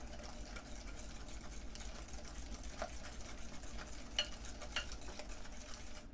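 A large egg being beaten into banana chocolate chip muffin batter gives a faint, steady wet stirring and scraping with soft irregular clicks, continuous and quiet with no talk.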